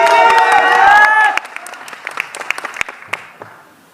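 An audience at a Bhojpuri music gathering claps. A loud voice comes first, then scattered, uneven claps fade out over a few seconds.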